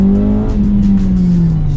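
A modified Honda Type R engine drones loudly as the car accelerates from low speed, a steady close engine tone with pitch sliding slightly through the run.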